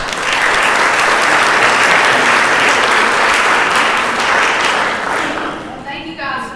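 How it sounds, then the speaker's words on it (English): An audience at a lunch event bursts into loud, sustained applause that fills the room and fades toward the end as a voice begins speaking. "So we give Kristy a round of applause."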